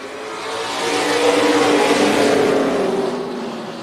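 Super Late Model stock cars race at Tucson Speedway, their loud engines roaring as a pack swells past, peaking midway and easing off, with no talking.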